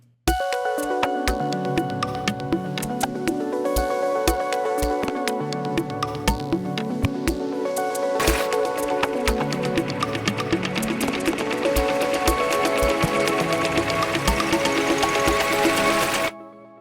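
UVI Percussion Factory 2 percussion loops play a steady, busy mechanical groove beneath a sparkling Omnisphere arpeggio, forming a loud, continuous electronic pattern of clicks, ticks and pitched notes that ends abruptly.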